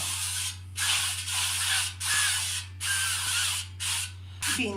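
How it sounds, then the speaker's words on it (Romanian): Olive oil cooking spray hisses onto a baking tray in five or six close, loud bursts separated by brief pauses, with a steady low hum beneath. "îl dăm cu spray-ul"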